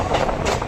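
A local train pulls into Barrackpore station, a steady broadband rumble of wheels and carriages with no pauses, close and fairly loud throughout.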